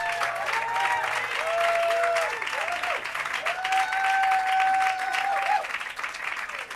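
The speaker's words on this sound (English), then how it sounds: "How about a big round of applause for the talent of Anne Hathaway?" Crowd applause at an outdoor Walk of Fame ceremony honoring an actress, sustained clapping and some cheering with whistle-like tones riding over it, fairly close and continuous.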